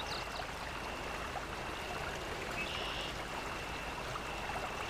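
A shallow stream of water in the SpinTires off-road game, where a Suzuki Samurai waits at the edge, gives a steady, soft rushing trickle that runs evenly throughout with no voices.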